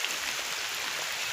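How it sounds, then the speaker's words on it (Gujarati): Continuous rainfall during a downpour, an even broadband wash of drops hissing steadily and close by, with no breaks or distinct single splashes. "અત્યારે વરસાદ ચાલુ જ છે।"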